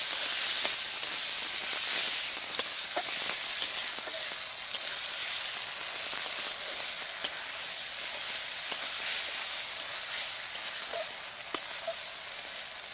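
Fried potatoes sizzling and being stirred into spice masala in a pan, a constant bright hiss with occasional scraping clicks, close and steady throughout.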